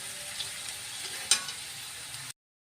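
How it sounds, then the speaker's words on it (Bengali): Potatoes frying in a pan make a steady close sizzle with one brief sharper crackle partway through, then the sound cuts off abruptly into silence. "আলুটা ভাজা হয়ে যাক"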